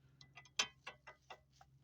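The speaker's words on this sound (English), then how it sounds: "it's a ratcheting wrench" A ratcheting wrench clicks on a seized toe adjuster of a 2001 Jeep XJ front end, with about eight faint, quick ticks in an uneven rhythm close by over a low hum.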